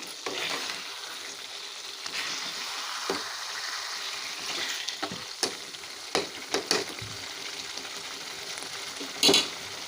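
Shark dried-fish thokku fries and simmers in a pan with a continuous close sizzle, punctuated by several sharper crackles and spoon stirs, no talk.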